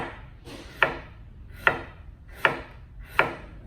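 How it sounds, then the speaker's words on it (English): A chef's knife slices slowly through quartered kohlrabi on a cutting board, giving four separate crisp crunches with a firm tap on the board, evenly spaced about a second apart, close and clear with no talking. "I'll cut that in quarters. And then I'm just going to slice"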